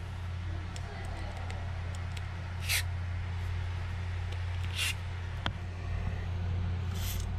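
Lubricant is sprayed onto the moving parts of a Shimano Stella 5000 SW B spinning reel in three short, hissing bursts spaced a couple of seconds apart, over a steady low hum.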